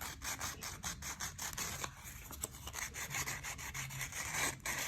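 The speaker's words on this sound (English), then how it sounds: "you can sand it with sandpaper" Rough, rhythmic rasping of sandpaper rubbed back and forth against a small homemade clay-sculpting tool, close and steady with quick repeated strokes and no voices.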